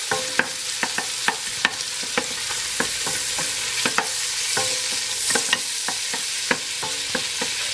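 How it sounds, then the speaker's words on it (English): Bacon pieces fry in butter over low-medium heat, a steady close sizzle broken by repeated sharp scrapes and clicks of a utensil stirring and separating them in the pan, with no talking. "we don't want to burn the butter, and we're not trying to crisp the bacon"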